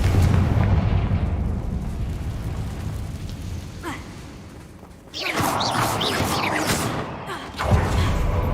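A Confringo explosion spell bursts in Hogwarts Legacy, a loud booming blast with crackling debris following a stretch of rumbling background, then a second thump near the end.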